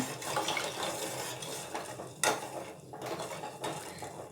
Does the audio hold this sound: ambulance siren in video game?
no